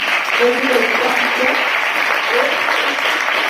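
An audience at a public meeting claps in a steady, dense round, with voices mixed in beneath the applause.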